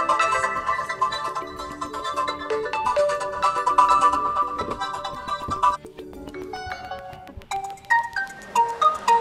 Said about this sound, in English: So here you can select one of these pre-installed ringtones,